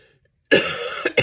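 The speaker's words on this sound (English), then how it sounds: "excuse me for coughing" A single harsh cough bursts out close by, followed by two shorter coughs in quick succession.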